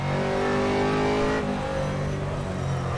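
Aston Martin GT3 race car engine in the rFactor racing simulation at Sepang, a loud, steady engine drone whose pitch climbs and then shifts as it runs, with no talking.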